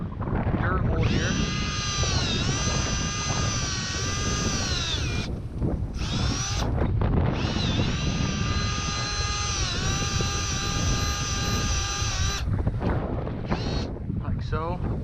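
Power drill boring a dirt hole into the ground for a trap set, a steady high motor whine running in two long bursts with short pauses and revving, close and loud amid outdoor wind noise.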